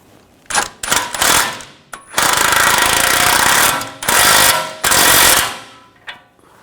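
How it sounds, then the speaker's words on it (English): Impact wrench tightening the outer tie rod nut on a 2007-2013 BMW X5, firing in several loud hammering bursts of varying length separated by short pauses, close up with no talk. "I'll put the nut on. Tighten that down."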